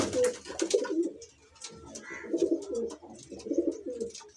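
Domestic pigeons of the Punjabi Malwai breed coo in repeated low, throaty bursts, three rounded phrases close by with brief pauses between them and no talking.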